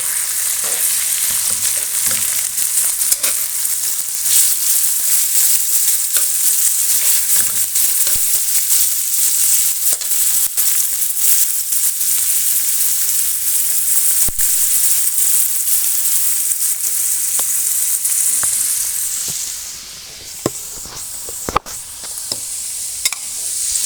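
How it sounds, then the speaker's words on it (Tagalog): Chicken sautéing in a pan for tinola, a loud steady close-up sizzle with bright hissing crackle, dotted with occasional sharp pops and a few utensil clicks near the end. "Linigisa ko na ang chicken"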